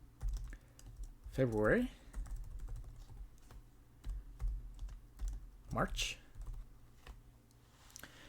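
Someone types rapidly on a computer keyboard, giving a steady stream of soft, close clicks. Someone talks quietly over the keys, naming words as he types.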